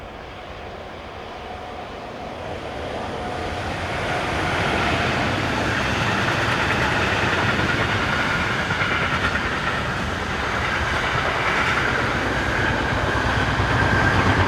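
Electric locomotive hauling a mixed freight train around a curve on the Frick to Effingen line in Switzerland, a steady, loud rumble of rolling wagons with faint wheel squeal and clatter that builds as the train passes close by.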